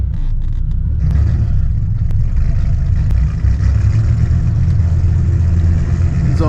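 A 1997 Dodge Viper GTS with a misfiring engine, heard from inside while driving: a loud, steady low rumble with slight roughness, no clear rev rise, and no talk.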